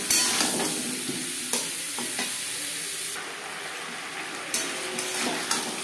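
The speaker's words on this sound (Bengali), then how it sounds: "লবণ হলুদ দিয়ে পেঁপে 4-5 মিনিট ভেজে নেব" Papaya pieces fry with salt and turmeric in a pan, a steady close sizzle broken by several distinct spatula stirring strokes and scrapes at irregular intervals.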